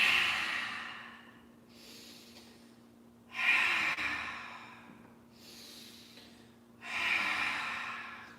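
Deep breaths in a kundalini yoga breathing exercise come in a slow, regular cycle: three strong exhales through the mouth alternate with softer inhales through the nose, close and with no talking.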